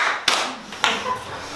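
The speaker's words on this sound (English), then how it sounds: "Again, 2 claps of acknowledgement." A school class gives two sharp claps of acknowledgement in a classroom, two distinct loud claps about half a second apart with quiet room tone between.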